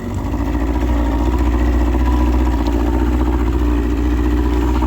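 A small 25-horsepower Honda outboard motor idling steadily while warming up, a low even putter that holds at a constant pace throughout, close by and loud with no speech.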